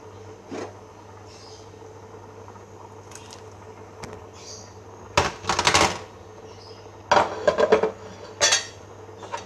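A spoon stirs tempe in a cooking pot for a Minang asam padeh dish, giving a few loud scraping clinks against the pot in short bursts over a steady low kitchen hum.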